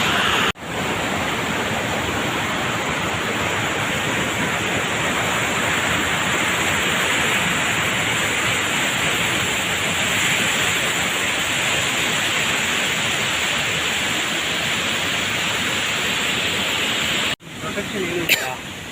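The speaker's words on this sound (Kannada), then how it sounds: "ಜಲಪಾತ ಬಿತ್ತ ನಂತರ ಹೇಗೆ ಹರಿದೋಗುತ್ತೆ ನೋಡಿ" Kanoor waterfall in Karnataka roars in a dense, unbroken wash of falling and flowing water, loud and close, cutting out briefly near the end before resuming.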